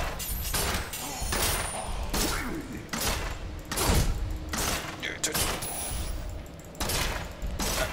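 Repeated shots from a Demon Hunter in the hack-and-slash game Diablo 3, a busy run of sharp bursts and impacts layered with mechanical creaks and thuds at steady volume.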